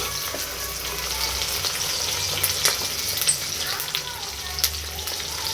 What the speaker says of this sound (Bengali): পেঁয়াজগুলো একটু নেড়ে লাল করে নেব।